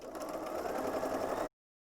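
A sewing machine runs steadily while chain piecing quilt block units, a close, continuous mechanical whir lasting about a second and a half before stopping abruptly.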